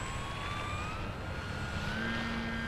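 A Dynam PT-17 radio-controlled model biplane takes off from a paved runway, its small electric motor whining steadily with rising, gliding tones over a constant background rush, no talking.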